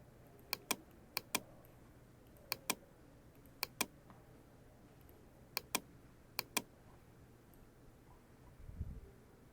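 Keys on a computer keyboard are pressed in short pairs of crisp clicks, spaced out over several seconds against a quiet room hum, ending with a soft low thump.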